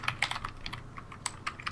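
Brisk keystrokes on a computer keyboard during a Minecraft mini-games livestream, a quick run of light clicks fairly close and alone.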